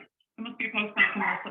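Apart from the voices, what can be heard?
dog barking at the neighbours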